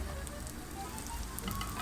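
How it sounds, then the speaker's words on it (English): Small rings of Turkish simit dough frying in hot oil, giving a close, continuous crackling sizzle at low volume with no voices. "Finally, I fried the simit holes without dipping it"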